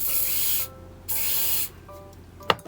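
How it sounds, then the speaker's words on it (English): Hairspray sprayed onto a small spoolie brow brush, giving two short, close hissing bursts with a brief pause between them and a small click at the end. "So taking this little spoolie brush and a little bit of hairspray,"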